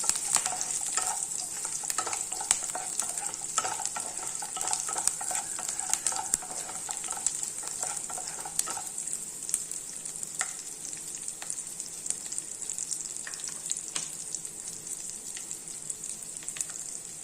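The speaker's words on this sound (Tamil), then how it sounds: "பூண்டு இஞ்சி ரெண்டையுமே சேர்த்துட்றேன் பச்சை மிளகாவையும் சேர்த்துறேன் கொஞ்சம் வதங்கிட்டேன்" Garlic, ginger and green chillies sauté in a pan for a dal tadka, a steady soft sizzle with faint crackles and occasional light stirring scrapes throughout.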